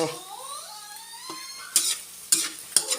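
Dried fish sizzles in hot oil while a utensil scrapes and clinks against the pan a few times, with no voices.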